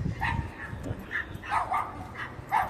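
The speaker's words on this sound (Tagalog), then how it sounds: "Uy, may aso rin sa taas." Dog in a residential subdivision in Marassi, Egypt, giving a series of short yips and barks at a moderate distance, spaced irregularly over a few seconds.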